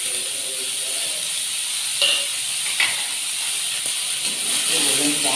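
Onions go into hot oil already seasoned with asafoetida and cumin for a nonia (purslane) sabji, giving a moderate hissing sizzle with a few sharp pops and utensil clicks, close by and without speech.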